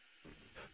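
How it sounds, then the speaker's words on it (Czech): Hissing burst of steam in a PC horror game, a short sharp blast that swells, dips, then flares again before fading, standing alone without talk. "Nebo se leknu páry."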